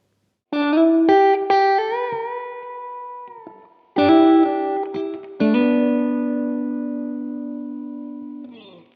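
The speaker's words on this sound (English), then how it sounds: "I'm using a Strymon Flint in there, all the controls at noon, and that sounds like this." Electric guitar run through a Strymon Flint reverb pedal with every control at noon: sustained chords and bends ring out in three phrases, with lush reverb tails decaying between them and at the end.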